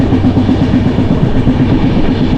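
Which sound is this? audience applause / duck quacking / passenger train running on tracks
passenger train running on tracks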